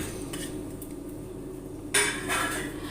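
Grated ash gourd is moved into a vessel in a home kitchen, with a steady clatter of utensils against dishes and a sharper clink near the end.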